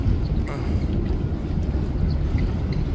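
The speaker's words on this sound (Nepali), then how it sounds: "माल बोक्ने जहाजहरू" Cargo ships move on open sea, heard as a loud low rumbling engine drone with wind buffeting the microphone and a faint wash of water throughout.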